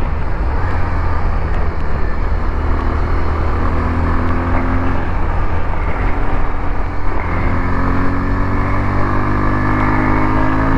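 A 2024 Bajaj Pulsar 150 twin-disc motorcycle accelerates, its engine droning steadily and loudly throughout with a rising, rough tone and wind rush, and no voices.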